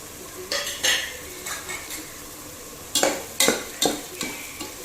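Biryani spices sizzle in hot oil while a utensil stirs and scrapes the pan in a series of short, sharp strokes, close up.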